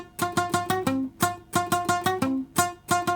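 A guitar plays a hip hop chord sequence in quick, palm-muted downstrokes, a steady rhythmic pattern of short chopped chords with a brief sustained note closing each phrase, repeated twice, alone and close.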